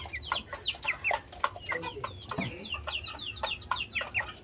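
A young rooster or pullet clucks continuously up close, a rapid series of chirpy, choppy calls over a farmyard murmur of other fowl.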